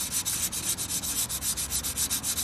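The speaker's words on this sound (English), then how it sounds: "So I'm gonna take 220 grit sandpaper." Fine 220 grit sandpaper rubs by hand along the edge of a glass panel for a kitchen door, a quick, steady back-and-forth scratching, close and fairly soft.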